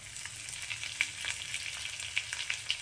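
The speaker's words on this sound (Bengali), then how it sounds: "তো রসুনগুলো ভাজা হয়ে গেছে, এবার আমি এর মধ্যে দিয়ে দিচ্ছি আদা কুচি" Chopped ginger dropped into garlic already frying in a pan, giving a steady, soft sizzle with small crackles and pops scattered throughout, quiet and close, with no voices.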